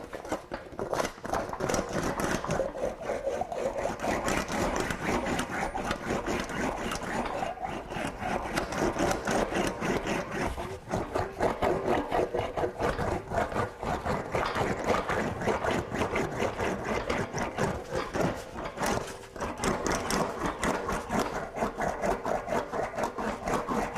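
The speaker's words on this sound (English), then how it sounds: "I'm going to smooth this out in the wheel as well" English wheel rolling over a metal motorcycle gas tank, a steady continuous grinding rumble with rhythmic rubbing passes, loud and unbroken throughout, no talking.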